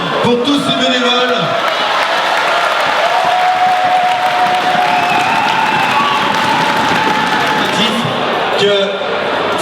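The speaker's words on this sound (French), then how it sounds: "je veux un tonnerre d'applaudissements pour tous ces bénévoles" Big crowd at a July summer rally in Saint-Laurent-de-Chamousset giving volunteers a thunderous round of applause, loud continuous clapping mixed with cheers and whoops, with a voice briefly heard at the start and end.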